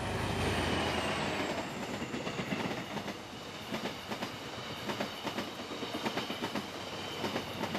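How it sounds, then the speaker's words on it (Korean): A train running on the Jeolla railway line passes close, its rumbling roar giving way to a rhythmic clickety-clack of wheels over rail joints, with a faint high wheel squeal early on. "전라선을 오가는 기차."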